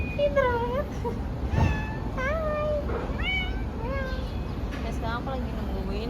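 A cat in Cumalıkızık, an old village near Bursa, Turkey, meows repeatedly in short rising and falling calls, close by, with a person talking over steady outdoor background noise.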